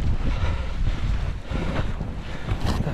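Strong wind buffets the microphone outdoors on the ice while fishing for perch, a loud, continuous low roaring rumble with gusting swells and no talk.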